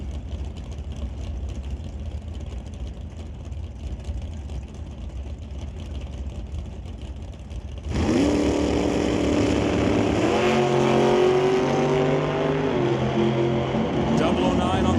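At the start of a Mission Raceway Park drag strip run, a dragster engine cuts in abruptly after a quiet stretch with loud, harsh revving and rising engine tones, and a commentator talks over it.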